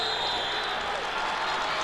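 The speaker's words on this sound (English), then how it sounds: "Harvey is applauding" Football crowd applauding and cheering in the stands at a North Dakota Class 1A high school state championship game between the Velva-Sawyer Aggies and Harvey Hornets, a steady broad wash of distant clapping and crowd noise throughout.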